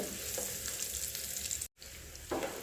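Potatoes frying in a pan with turmeric and salt, a steady close sizzle throughout, with a brief break in the sound partway through.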